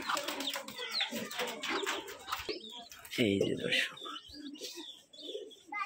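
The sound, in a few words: Rajshahi Giribaj pigeons cooing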